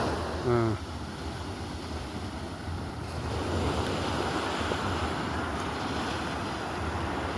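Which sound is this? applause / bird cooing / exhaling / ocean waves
ocean waves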